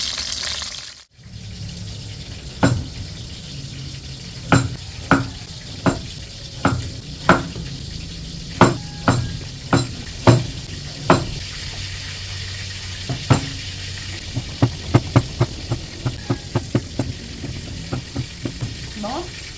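Whole tilapia fry in hot oil with a steady sizzle, broken by a series of sharp pops and crackles that quicken toward the end. The sound is close and moderately loud.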